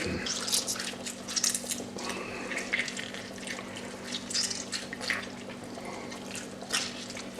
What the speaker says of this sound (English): So squeeze the bejesus out of the orange and get as much juice.